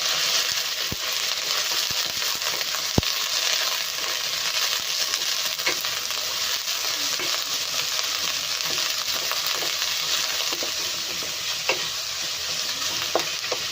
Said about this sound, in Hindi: अब हम इसे भी फ्राई कर लेंगे।